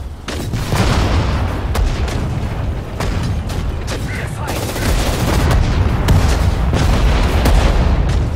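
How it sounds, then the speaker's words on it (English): Artillery and gunfire in Sudden Strike 4 during a Battle of the Bulge mission: loud repeated booming blasts and crackling shots in irregular bursts, dense and continuous, with brief unit voice acknowledgments mixed in. "Artillery, fire!"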